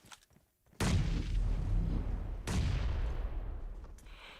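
Grenades exploding in a PUBG Mobile esports match: two loud, sudden blasts about two seconds apart, each followed by a long rumbling decay.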